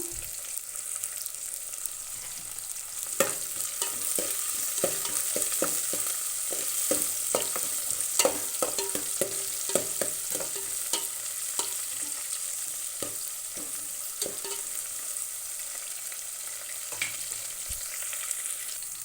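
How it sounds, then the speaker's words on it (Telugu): Green chillies and curry leaves sizzle and crackle in hot oil in a pan, a steady frying hiss broken by sharp pops and spits throughout, close and alone. "పచ్చిమిర్చిలు కొన్ని 10 పచ్చిమిర్చి వేసినాను. కరివేపాకు 2 రెమ్మలు,"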